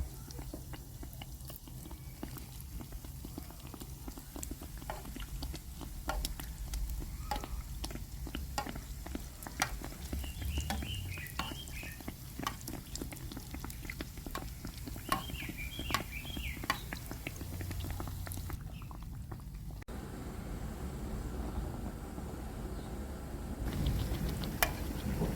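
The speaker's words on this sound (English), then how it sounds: "add the dough into the oil and let it fry" Vetkoek dough frying in hot oil, a soft, steady sizzle and patter running throughout at low level, with faint spoon stirring and a few small clinks.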